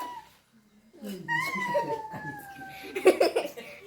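A cat gives a drawn-out, wavering meow at close range while people chatter and laugh nearby.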